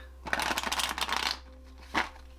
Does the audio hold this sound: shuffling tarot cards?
yes